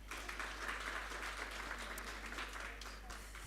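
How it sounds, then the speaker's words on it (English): A round of applause from a seated audience at a women's forum launch event, a steady patter of clapping lasting a few seconds over faint room hum. "A round of applause."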